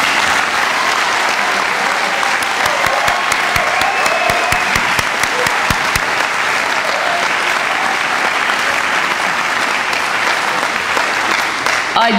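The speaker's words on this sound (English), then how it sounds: "Please give your graduates another round of applause." Sustained applause from a graduation audience at a Florida State University master's hooding ceremony, dense and steady throughout with some sharp individual claps early on.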